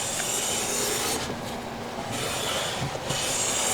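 A hand plane with a waxed sole shaves wood in long continuous strokes, a steady broadband rubbing hiss that briefly dips partway through before resuming, close and fairly loud with no voices.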